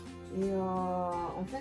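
A cat lets out a single drawn-out, tonal meow lasting over a second, close and clear, with someone speaking French briefly just before it.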